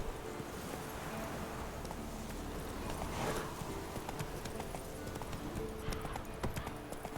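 Roach the horse's hooves clip-clop steadily in The Witcher 3, a continuous close gait over dense game ambience with no voices.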